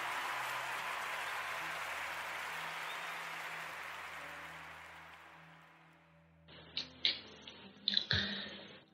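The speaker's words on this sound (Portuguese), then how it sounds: "eu quero pedir a toda a gente uma grande salva de palmas" Studio audience applause on a Portuguese-language radio podcast, a dense wash of clapping that fills the first six seconds and then fades, followed by a few scattered sharp knocks and handling noises near the end.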